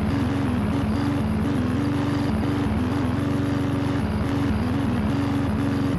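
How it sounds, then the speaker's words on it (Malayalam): Steady droning engine of a plane in the game Dude Theft Wars, a continuous loud hum with a wavering low tone and no pauses, heard alone with no talk. "എന്ത് ഭയോഹരമായ ഗാനമാണ് കൈ വിമാനം പാടുന്നത് നിങ്ങൾ കേൾക്കേണ്ടത്"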